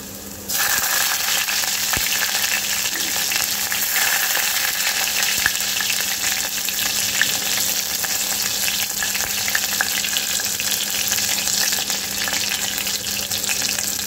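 Green chillies frying with ginger, garlic and cumin in hot oil for masala khichdi make a steady, close crackling sizzle that starts abruptly and runs evenly with no one speaking.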